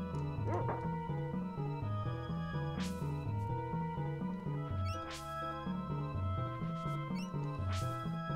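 Small dog companion barking in the Secret of Evermore video game, a few short yips popping out over steady looping chiptune music.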